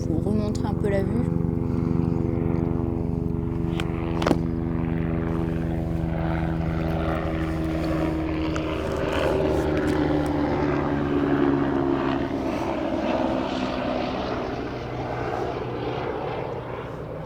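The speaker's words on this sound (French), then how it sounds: "Petit hélicoptère." Small helicopter passing overhead near the Massif de Crussol above Valence, a loud droning rotor and engine with shifting tones that sweep down as it moves past, while people talk in the clip.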